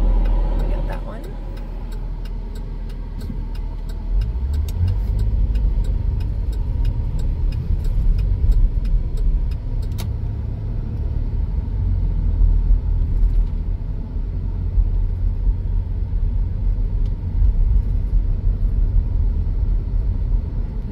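A car drives through downtown Tarpon Springs, its steady low road rumble and engine hum continuing throughout, with faint ticking and a voice talking over the cabin noise.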